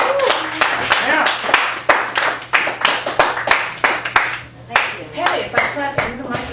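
Steady, close applause at a poetry open mic in a Chicago cafe, with sharp individual hand claps in an uneven rhythm, some cheering and voices mixed in, continuing throughout.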